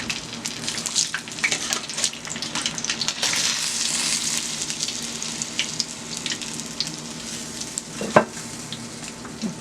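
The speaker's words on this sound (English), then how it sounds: "And I'm going to fry that side also." Fish frying in hot oil gives a steady, close sizzle with scattered crackles and spits, no voices over it.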